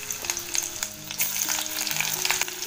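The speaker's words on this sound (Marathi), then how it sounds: "तेल गरम झाले, मिरची आणि कढीपत्ता टाकते" Chillies and curry leaves sizzle in hot oil, a bright, crackling spatter with quick pops and bursts, close and loud, with faint stirring and utensil sounds underneath.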